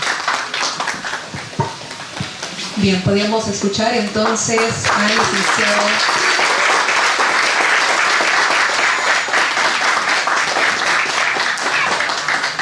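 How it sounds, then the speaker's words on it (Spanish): Audience applause at a book presentation in honor of a speaker's mother, rising to a loud, sustained wash of clapping after someone speaks briefly over a musical tone at the start. "que me acompañen con un aplauso de agradecimiento a mi señora madre."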